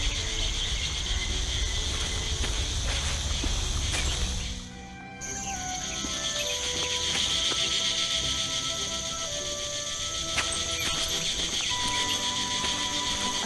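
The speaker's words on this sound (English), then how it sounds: "I think I can hear a cricket chirping in the barrel." A cricket chirps steadily from inside a barrel in the video game The Night of the Rabbit, a shrill, continuous trill that breaks off briefly and then resumes over soft background ambience.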